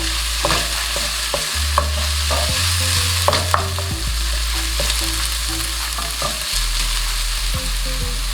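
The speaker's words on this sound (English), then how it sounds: "I love the smell of onions when you're frying them." Onions frying and browning in a pan before carrots are added, a steady sizzle with repeated stirring and utensil scrapes throughout, close and fairly loud with no talk.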